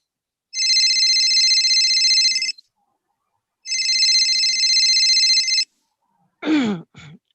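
A telephone rings twice in long, steady electronic bursts for a collect call placed from a pay phone in a radio play, followed by a short breathy vocal sound.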